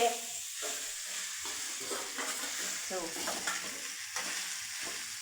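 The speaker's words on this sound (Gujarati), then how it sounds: "તો હાલો હવે આપણે વઘાર મારી દઈએ" Steady hissing sizzle of spices hitting hot oil in a pan for tempering stuffed bitter gourd curry, continuous and close, with faint stirring scrapes throughout.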